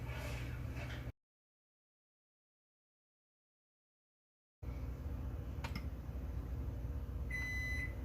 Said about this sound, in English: Oh, there goes my timer for my lids.